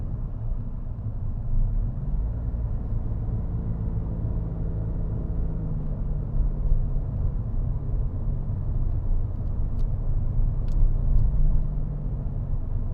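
A hybrid car runs on petrol alone while climbing a hill, its engine a steady low rumble and drone that holds throughout with no voices.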